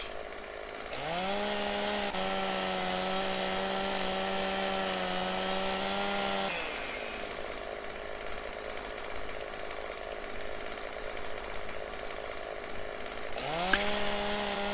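Chainsaw in the Landwirtschafts-Simulator 17 farming game cutting wood, revving to a steady loud whine for several seconds, dropping back to idle, then revving up again at the end; no talking.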